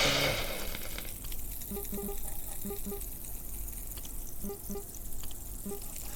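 Food frying on a cooking station in the video game Abiotic Factor, a steady watery sizzle with faint repeated tonal blips from the game over it, and no talking.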